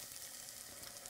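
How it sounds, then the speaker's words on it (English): Laksa spice paste fries in hot oil in a pan, giving a soft, continuous crackling sizzle that stays steady and fairly faint throughout, with no voices. "I see now the oil is sort of like seeping out and sizzling around the paste"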